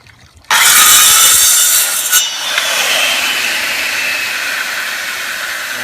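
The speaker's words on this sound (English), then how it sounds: "I'm gonna just use a skill saw to cut it." A skill saw bites into 3/4 inch PVC pipe with a sudden loud whining rasp that holds for a second or two, then settles into a sustained, slightly softer cutting drone, close and alone.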